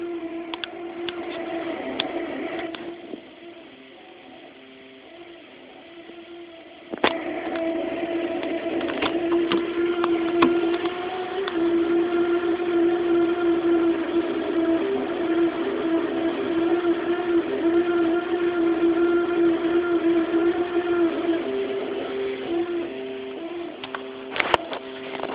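An old 1980s GE refrigerator freezer gives off a weird UFO-like warbling hum, steady tones with stepped pitch shifts and faint ticks, droning on for about twenty-five seconds after a brief quieter dip.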